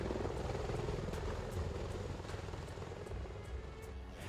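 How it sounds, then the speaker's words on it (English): A Bell Boeing V-22 Osprey tiltrotor aircraft, a steady rotor drone with faint regular thumping beats, held at a constant moderate distance with no talking. "This is the Bell Boeing V-22 Osprey"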